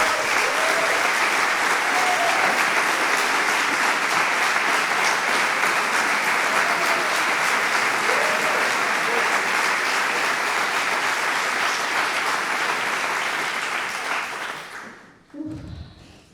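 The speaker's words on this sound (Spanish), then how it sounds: "Recibimos, por favor, con un fortísimo aplauso a Débora Sasa." An audience at the opening ceremony of the Human Rights Route in Oviedo claps loudly and steadily for a long stretch, then the applause quickly fades to near silence at the very end.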